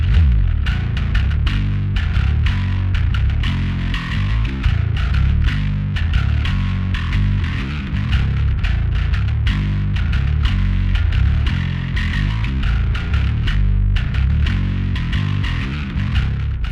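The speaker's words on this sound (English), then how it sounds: "this bass is definitely being played with quite a bit of distortion" Heavily distorted bass guitar in drop A tuning plays progressive death metal riffs through a Phil Jones Bass Cub Pro amp, with loud, gritty, fast palm-muted chugs and busy rhythmic note runs sustained throughout.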